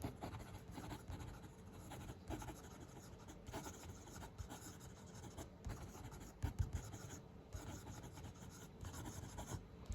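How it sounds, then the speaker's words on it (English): A Wingsung 630 fountain pen with a fine nib writes quickly on paper, giving a steady, close, faint scratching that runs unbroken for the whole stretch, with no voices. "Quick writing."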